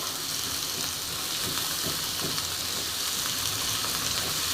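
Washed bottle gourd (lauki) hits a hot pan and sizzles, a loud, steady, close frying hiss that runs throughout with faint stirring underneath.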